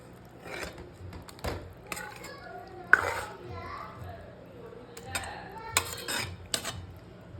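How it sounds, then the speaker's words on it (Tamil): A spoon clinks and scrapes against a metal pot while bitter gourd kulambu with ground coconut is stirred, in short irregular bursts, close by, with a voice speaking underneath. "நல்லா கிளறி விட்டுலாம். எல்லாத்தோடையும் மிங்கிள் ஆகட்டும்."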